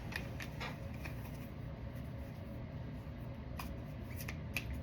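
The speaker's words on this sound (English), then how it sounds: "Shuffle them up." Tarot cards riffle and slap softly as they are shuffled close by, in short irregular bursts over a low background hum.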